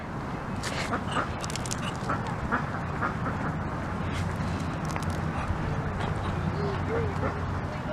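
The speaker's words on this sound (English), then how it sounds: "Hey duck. You look kind of mean." Duck quacking outdoors amid steady background noise and people talking, with short calls scattered through the clip; a dog also seems to be present.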